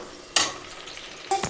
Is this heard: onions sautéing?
yes